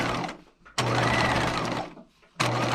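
A sewing machine stitching a dress in two bursts of rapid, steady mechanical whirring, separated by a short pause, close and clear.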